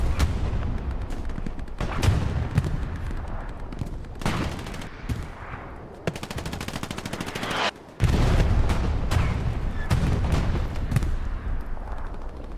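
Anti-tank guns firing on a tank in the World War II shooter Hell Let Loose, a dense run of loud, sharp reports and booming blasts repeating through a sustained battlefield roar, with brief gaps between volleys.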